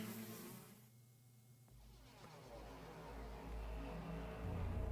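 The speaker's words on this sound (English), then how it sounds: "A huge swarm of bees appeared" A dense, broadband buzzing swarm of bees in the video game The Hundred Line: Last Defense Academy rises and fills the scene, growing steadily louder with a low rumbling drone underneath.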